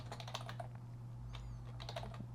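Typing on a computer keyboard while building a voice agent: a quick run of close, light key clicks in bursts with short pauses, faint overall, over a constant low electrical hum, no talking.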